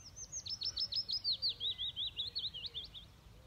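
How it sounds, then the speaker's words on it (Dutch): Small birds chirp in quick repeated bursts of high, thin notes, fairly close, over a soft low background hum. "Je hoort helemaal niks, alleen vogeltjes."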